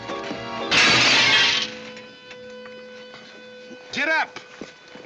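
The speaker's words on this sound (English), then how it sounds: "You busted Lily's looking glass." A mirror, Lily's looking glass, breaks with a sudden bright crash of shattering glass in an old Western-film scene, and a few tinkling fragments follow as the sound fades. A voice is heard shortly afterward.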